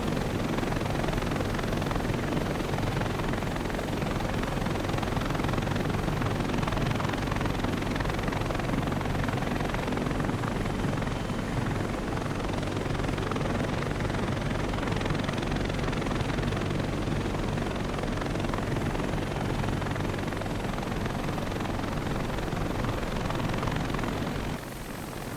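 An A-29B turboprop engine running steadily while the aircraft taxis toward the runway in a flight simulator, a continuous loud droning whine with a broad rushing roar and no change across the stretch.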